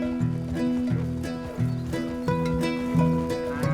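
Hooves of a tired mare in Red Dead Redemption 2 clip-clop steadily near a western ranch, a rhythmic plodding gait heard up close alongside faint ambient game sounds.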